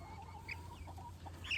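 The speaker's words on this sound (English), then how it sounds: "You know, it's just a black chicken." A small black chick held in hand gives a few faint soft clucks and peeps over a low steady background hum.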